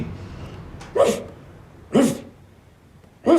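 A cartoon dog from the animated series Flapjack barks three times at roughly one-second intervals, loud, close and alone.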